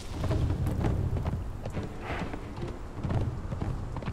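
Horse hooves clip-clop in Conan Exiles, a loud, close, uneven patter of steps over a rumbling, rain-like background, with no talking.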